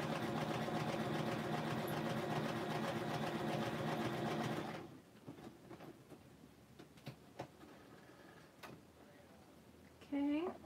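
A sewing machine stitches a craft project in a steady close mechanical whir for about five seconds, then stops, leaving quieter handling clicks and a brief voice near the end.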